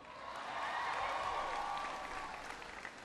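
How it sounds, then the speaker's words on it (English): Audience applause for Brian after he gives an introduction at an education event in Missouri, a steady wash of clapping from a large crowd that swells early and then eases slightly, heard alone. "Give Brian a big round of applause for the introduction."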